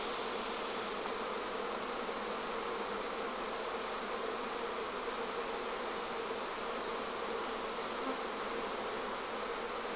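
A honeybee fall swarm drones in a dense, steady buzz, close and loud, with the whine holding unbroken throughout and no voices.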